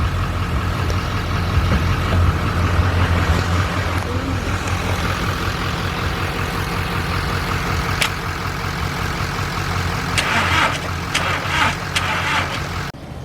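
A truck engine idling with a sloppy cam, a loud, steady lopey burble with irregular pops throughout while the truck is being moved, a few sharp clanks near the end.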